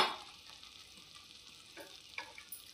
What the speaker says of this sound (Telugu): ఇదిగోండి వాటర్ మరుగుతుందండి.